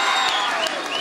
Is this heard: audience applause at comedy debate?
yes